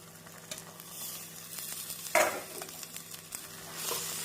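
Turkey berries and chopped tomato sizzle and fry in a hot pan while a spoon stirs and scrapes, with one sharper clink partway through; steady, close, no talking.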